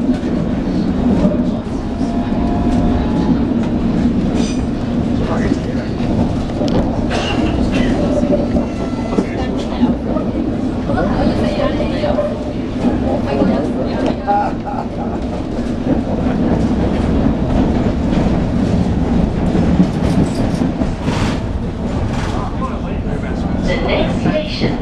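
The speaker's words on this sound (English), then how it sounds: "we're on a bendy train going towards Westminster" A bendy London Underground train runs towards Westminster with a steady, loud rumble and rhythmic clatter of wheels on track throughout, people talking over the noise.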